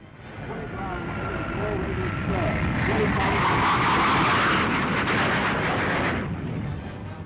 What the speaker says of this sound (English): The first high-altitude light jet bomber, it's powered by 2 Avon gas turbines and has a remarkable turn of speed and maneuverability.